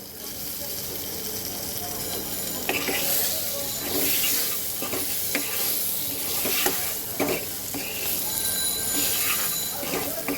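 Water poured over fried hilsa fish and fried potatoes in a hot pan, a loud hissing sizzle that swells and bubbles with scattered clatters throughout.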